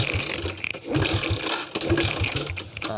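A Yamaha Jupiter MX motorcycle with a hard-starting fault, white exhaust smoke, cranks on its electric starter in a steady mechanical whirring and clicking for about three seconds without the engine catching.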